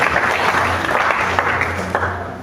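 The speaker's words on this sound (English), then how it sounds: "You clap for them." An audience applauds graduates at a 2023 graduation assembly, steady dense clapping filling the whole stretch with a few sharper claps standing out and faint voices underneath.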